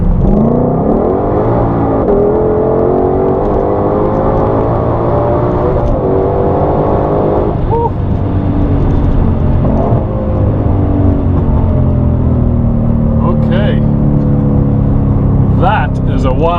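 A 2020 Shelby GT500 in track mode accelerates hard with a loud, continuous engine roar that climbs in pitch through the gears, heard from inside the car with a voice speaking over parts of it.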